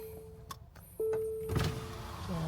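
A car's electric power window motor whirs in steady hums inside the vehicle, with a tonal drone that stops and restarts, close and moderately loud.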